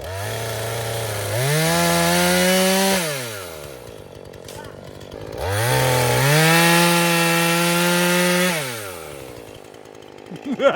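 A Husqvarna 440 chainsaw cuts wood in two loud bursts of high revving, each dropping back to a lower idle between cuts, close by with no talk.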